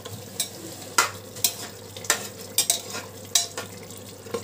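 Mutton keema is stirred in a pot over a low flame, a soft sizzle under a regular series of scraping, knocking spoon strokes, close and moderately quiet.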